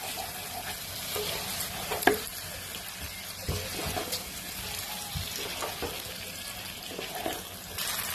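Pre-fried cauliflower being stirred into hot masala in a pan for a cauliflower korma, a quiet sizzle under intermittent scraping and spoon knocks, with one sharper clank partway through.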